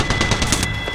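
Rapid automatic gunfire in the video game Apex Legends, a loud, close burst of about six evenly spaced shots.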